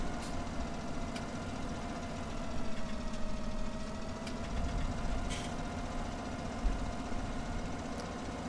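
A pallet-loading vehicle's engine runs at a steady idle nearby, with a continuous mid-pitched rumble, light vibration and a few small knocks and clunks throughout.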